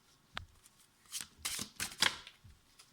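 Tarot cards being shuffled by hand, quiet, close riffling bursts in quick uneven succession, each a brief papery flutter.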